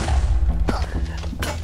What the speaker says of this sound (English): Something's blowing up.